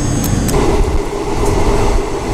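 A train in India pulls away after a long halt in an open field, giving a loud, steady rumble and rolling clatter throughout.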